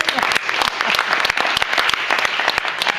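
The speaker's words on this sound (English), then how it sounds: "Give me a round of applause" Dense applause from an audience at a quiz championship awards ceremony, loud and steady throughout with sharp individual claps standing out, plus faint voices mixed in beneath.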